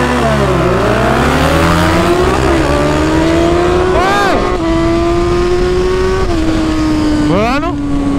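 Honda Hornet and another motorcycle pulling away hard from a traffic light, engines revving up through several gear changes with rising and falling whines, loud and close throughout.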